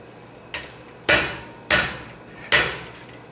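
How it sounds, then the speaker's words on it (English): A blacksmith at a smithing conference hammers metal flat, four ringing strikes at an uneven pace, close and distinct against a quiet background. "I'm gonna kind of hammer this to flat anyway,"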